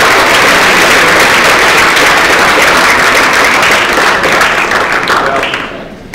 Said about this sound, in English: So please give Mr. Rinaldi a round of applause